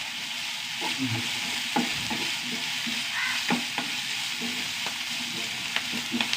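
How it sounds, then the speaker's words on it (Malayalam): Onion, ginger, garlic, green chilli and curry leaves sauté in a pan, a soft steady sizzle with occasional scrapes and stirring clicks, quiet and close. "എല്ലാം കൂടി നന്നായി വഴണ്ട് വയ്ക്കാം നമ്മൾ ഉള്ളിയൊക്കെ വഴണ്ട് വന്നു"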